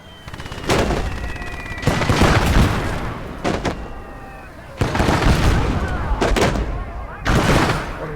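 Mortar and gunfire in a Kelly's Heroes war video game battle, with loud booming blasts and crackling bursts arriving in several separate waves, some followed by ringing decay.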